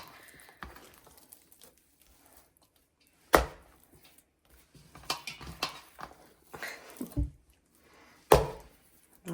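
Simit dough being slapped down and folded on a kitchen surface, sharp isolated thuds spaced a second or two apart with softer handling noises between, close and fairly quiet.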